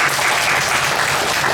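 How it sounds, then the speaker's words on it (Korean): A church congregation applauds during a Sunday worship service, a steady dense wash of many hands clapping at full volume without a break. "다시 한번 힘차게 격려와 축복의 박수하겠습니다"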